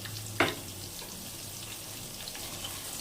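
A wet spice paste of coriander powder, salt and chili powder hits hot oil for a river boal fish curry, giving a sharp burst of sizzle that settles into a soft, steady frying hiss.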